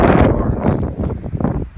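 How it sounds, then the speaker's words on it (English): Wind buffets the microphone in low, rumbling gusts that rise and fall throughout, loud and close, on an old egg farm by old redwood barns. "Sorry about the wind."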